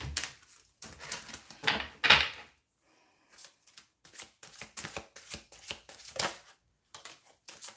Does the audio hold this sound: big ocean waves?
no